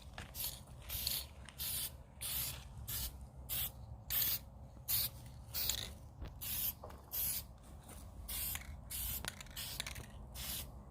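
An aerosol can sprays white frost paint onto rope lights in repeated short hissing bursts, each about half a second with brief gaps, close and fairly quiet, with no talking.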